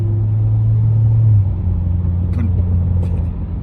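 A Chevrolet SS car rumbles loudly past up close, its engine drone dropping away midway, with a few faint crackling exhaust pops near the end.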